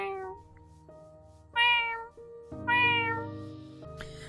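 A person's voice imitates a cat's meow, drawn-out mewing cries repeated three or four times, close and fairly loud, with no other talk.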